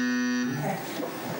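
A loud electronic game show buzzer tone sounds at the start, steady and harmonic, cutting off after about half a second into a noisy crowd-like wash.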